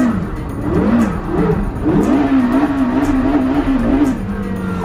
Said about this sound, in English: Carrera GT on a mountain road.